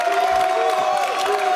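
A crowd at a YCS Utrecht 2018 trading card game tournament final cheers and whoops, a steady loud roar of voices with a sustained tone running underneath.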